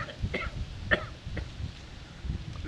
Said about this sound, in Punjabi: ਖੰਘੋ ਜੀ ਥੋੜਾ ਜਿਹਾ